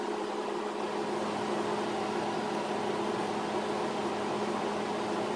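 A cotton candy machine runs with a steady, even mechanical hum and whir, constant and close throughout with no other sounds on top.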